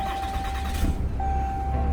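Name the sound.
2021 Ram 2500 Laramie pickup truck engine running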